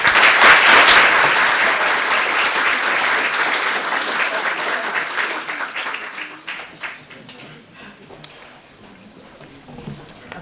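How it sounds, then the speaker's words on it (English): A room of people at a candidates' forum applauds the candidates, a loud burst of clapping that tapers off into scattered claps, with people talking as it dies away. "I think we should give them a round of applause"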